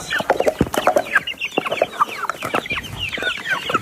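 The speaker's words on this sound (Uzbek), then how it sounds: "Mana jo'jalarimiz qanday katta bo'lishdi do'stlar mana. Mana nemis bilan ganoldan chiqqan xorozchalarimiz." Young German and Ganol cockerels and chicks cluck and peep busily up close, a dense overlapping chorus of short calls with no pause throughout.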